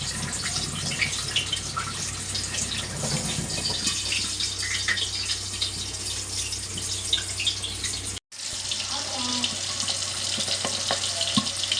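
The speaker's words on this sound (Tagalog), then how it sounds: "nilagay ko na lahat ng bangus. Hindi na siya masyadong matalsik." Milkfish (bangus) frying in a pan of hot oil, a steady dense crackling sizzle heard up close with a brief dropout near the end, no voices.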